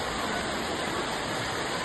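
Heavy monsoon rain and floodwater rushing through a low-lying street in Latur, a steady broadband roar filling the whole stretch without a break, fairly faint in level.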